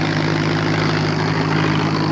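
A light plane's propeller engine roars steadily at high power on a grass farm airfield during takeoff, loud and continuous with a strong low drone.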